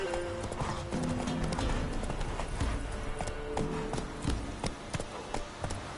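A horse gallops in the Witcher 3 video game, its rhythmic hoofbeats clip-clopping close and clear across the whole stretch, with a faint snort or whinny among them.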